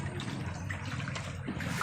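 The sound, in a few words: floodwater flowing into a house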